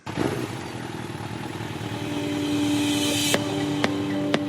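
A motorcycle engine revving as the throttle is opened, building steadily from a low idle-like rumble into a louder, rising drone, with a few sharp clicks near the end.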